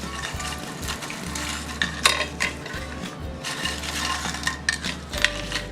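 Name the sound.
fried nachos being taken out onto a plate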